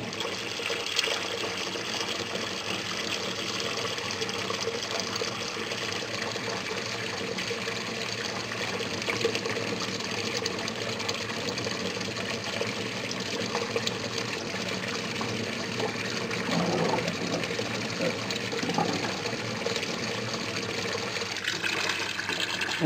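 Water flowing steadily through the siphon of an aquaponics grow bed, a continuous close gushing and trickling with little change over time.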